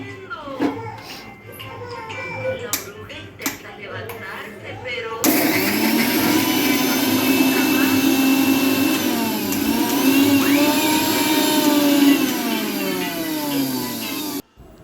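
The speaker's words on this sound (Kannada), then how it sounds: "ಇವಾಗ ಒಂದು ಮಿಕ್ಸಿ ಜಾರ್ ತೊಗೊಂಡು ಅದರಲ್ಲಿ ಮೆಣಸಿನ್ಕಾಯಿ, ಜೀರಿಗೆ, ಬೆಳ್ಳುಳ್ಳಿ, ಅಲ್ಲ, ಜೀರಿಗೆ ಹಾಕ್ಕೊಂಡು" A mixer grinder jar grinds green chillies, garlic and cumin into paste, its loud steady whirring motor starting abruptly after a few seconds of talking and kitchen clatter, then running continuously before cutting off sharply.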